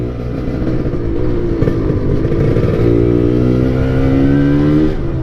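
Yamaha RX-Z motorcycle fitted with a swapped Ninja RR Super KIPS two-stroke engine, revving loudly up close, its buzzing pitch rising and settling into a sustained high rev.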